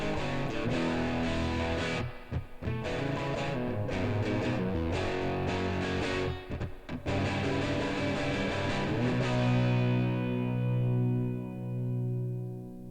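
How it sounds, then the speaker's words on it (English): A Les Paul guitar through the Amped Gemini American vintage combo amp plugin gives a crunchy, lush, moderate-gain distortion, strummed in steady chords with brief pauses before a final ringing chord fades out. "So very lush kind of distortion, definitely not a metal sort of a gain, but a very crunchy sound."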